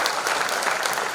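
An audience claps loudly and steadily, a dense wash of many hands applauding without a break, close and full.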